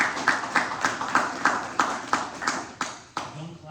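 Audience at a community group meeting claps in rhythmic unison, about a dozen evenly spaced beats that slow slightly and trail off as a voice begins.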